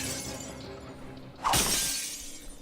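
Glass shatters at a resort in the video game Dead Island, one sharp loud crash with a bright splintering burst that rings out and fades over steady game background ambience.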